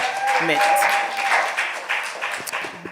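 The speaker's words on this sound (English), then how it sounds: "let's clap him up for his encouragement" A youth group claps for someone's encouragement, a continuous patter of hands with voices talking over it.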